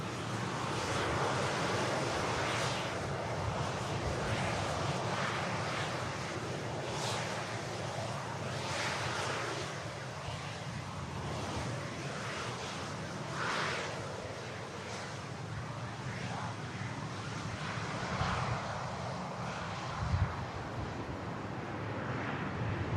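A Ryanair airliner on the runway at Manchester Airport, heard as a steady broad engine roar mixed with heavy wind buffeting on the microphone, sustained and fairly distant throughout.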